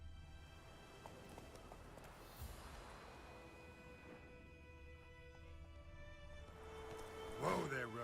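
Roach, a horse in The Witcher 3, clip-clops along at a steady gait under a layer of game music and ambience, hoofbeats moderately close and fairly soft, with a louder stir of activity near the end.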